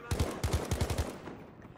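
A quick close burst of automatic gunfire from a video game shootout, roughly eight rapid shots in short clusters that fade into a trailing echo, fairly quiet overall.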